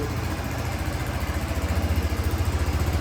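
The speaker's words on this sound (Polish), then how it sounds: "Tutaj tylko rozrusznik i ten motocykl już nam pracuje." A 2014 Daelim VL 125 Daystar motorcycle engine idles after starting, a steady close low throbbing pulse that grows slightly more even toward the end, with no talk.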